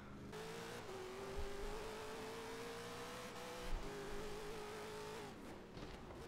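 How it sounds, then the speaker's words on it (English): A modified Mini Cooper with a V8 engine drives in Forza Horizon 3, its engine droning steadily under throttle with brief thumps and shifts, heard alone without talk. "Rapid Mini Cooper, it needs better brakes, that's for sure"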